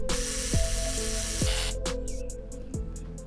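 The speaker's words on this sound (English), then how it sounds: "now I'm going to start to remove the screws that's holding on the upper timing cover" Tools work loose the screws on the upper timing cover of a VW Mk6 GTI, with a steady hiss under several sharp, close metallic whines and clicks, no talking.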